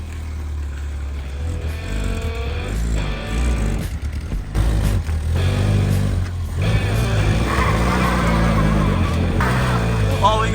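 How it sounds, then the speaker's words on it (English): A 1980s Holden VL Commodore fitted with an LS1 V8 doing burnouts, its engine roaring loud and close with rising revs and tire noise, while excited voices talk over it. "Oh, we got burnouts."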